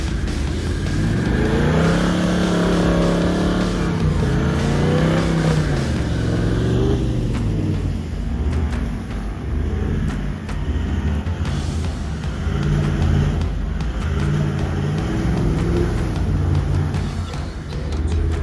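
4WD vehicle stuck bogged in mud on a track toward the Drysdale River, its engine revving hard and rising and falling in long surges, loud and close, easing to a lower steady drone later on.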